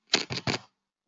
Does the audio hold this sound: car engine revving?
no